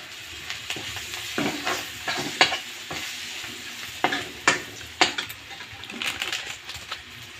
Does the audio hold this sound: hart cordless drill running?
no